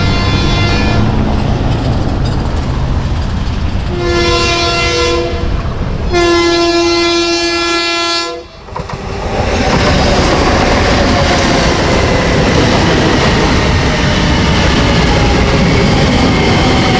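A loud Long Island Rail Road passenger train of M3 cars rumbles past close by at Pinelawn, sounding two long blasts of its horn before the clattering roar continues.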